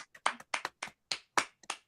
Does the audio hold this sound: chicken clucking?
no